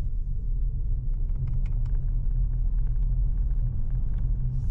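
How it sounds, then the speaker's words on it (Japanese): A Subaru WRX S4 engine held in first gear while rolling down a parking ramp, giving a steady, loud low drone that holds constant throughout with faint clicks over it. "はい、一速固定で下ってみます。"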